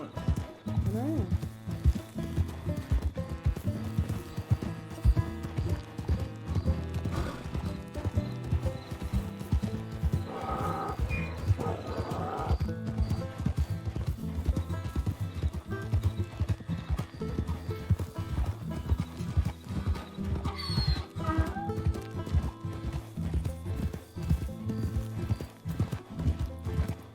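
Hooves clip-clop steadily in Red Dead Redemption 2 as a slow-moving donkey is ridden, a continuous rhythmic plodding with occasional neighs, game music and chatter running underneath.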